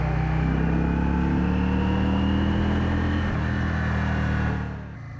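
Engine of a Yamaha Virago XV 535 motorcycle with a carburettor problem revving again while riding, a loud droning climb in pitch that drops back near the end, with no talk over it.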